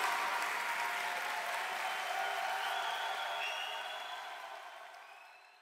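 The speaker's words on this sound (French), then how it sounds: "On applaudit bien fort encore une fois" Sustained crowd applause at a Brazilian jiu-jitsu Pro League event, a dense, even patter that gradually fades away with no voices over it.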